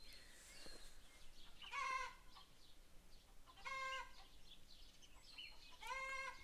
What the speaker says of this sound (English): Now my chickens are gonna annoy me.